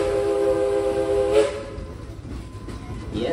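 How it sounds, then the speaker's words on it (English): The Frisco Silver Dollar Line #504 train sounds a loud, sustained multi-tone whistle that cuts off after about a second and a half, followed by a quieter rumble and hiss of the train. "These honorary whistles are just for you."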